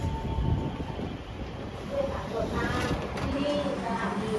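An SRT diesel train led by NKF 1223 idling at a station: a low rumbling hum and engine drone with faint squeaks and clanks, steady and near, as someone speaks over it.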